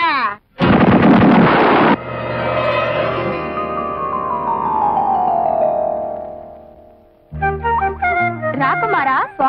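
Coconut bombs go off in a Telugu film scene, with loud booming bursts and a long falling, ringing tail before a fresh cluster of sharp blasts.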